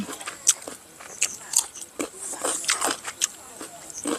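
Crunchy kaew khamin mango being bitten and chewed, with several crisp crunches close up among rustling, and a voice talking faintly at times.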